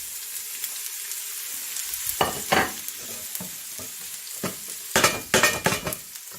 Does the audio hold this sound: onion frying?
yes